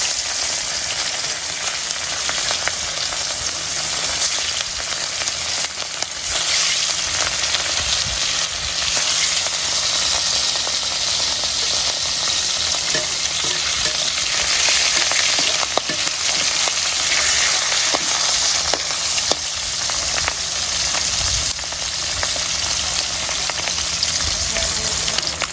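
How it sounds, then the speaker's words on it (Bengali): Fish frying in hot oil in a village kitchen, a steady loud sizzle with occasional stirring scrapes running throughout, no talk over it. "এখন মাছ দিয়ে দিব মাছটা ভেজে নিয়ে"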